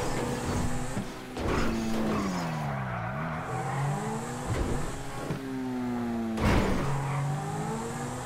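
A fully upgraded Zentorno supercar with turbo in a video game, its engine revving through rising and falling gear sweeps with repeated tire squeals and skids, loud and continuous throughout.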